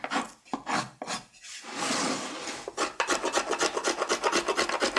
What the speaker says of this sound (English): I've got to carve in the other direction